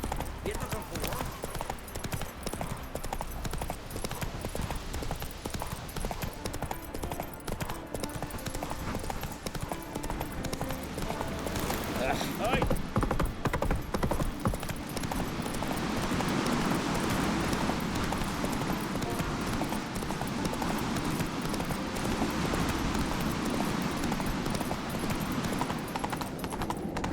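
Roach, a horse in The Witcher 3, clip-clops steadily on its hooves in game, under dense in-game music and ambience while characters talk.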